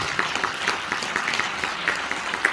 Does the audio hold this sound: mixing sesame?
no